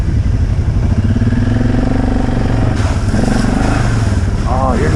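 A Suzuki KingQuad four-wheeler ATV engine runs steadily close by during a ride, a continuous motor drone with some clatter and a rise in revs, while people talk over it.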